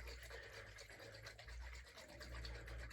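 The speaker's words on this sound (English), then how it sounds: "you shake it up to mix all these magical juices together" A Nivea 2-in-1 skin product bottle shaken by hand to mix its liquids gives a fast, rhythmic scratchy sloshing, continuous for a few seconds, faint and close, with no voices.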